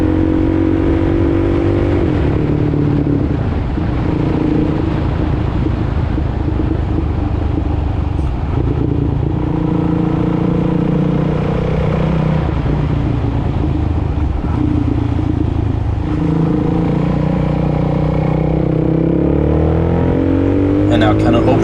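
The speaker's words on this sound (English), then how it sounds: "And now kind of opening it up on this straight, I think I got it to right around 60 here" A 2005 Suzuki DRZ400SM single-cylinder motorcycle accelerates along a straight road, its engine note rising and shifting through gears in a loud, continuous drone, with a rider's voice talking over it.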